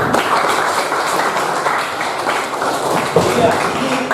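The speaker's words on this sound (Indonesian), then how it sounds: "Kasih tepuk tangan dulu yang 3 orang ini." Classroom clapping for three students during a physics lesson on Newton's law of gravitation, a dense, steady patter of many hands lasting the whole stretch with some chatter mixed in.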